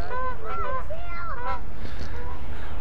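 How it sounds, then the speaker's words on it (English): A few geese honk close by in a quick, overlapping run of nasal calls, loud at first and then fading into faint background noise. "Well, hey geese."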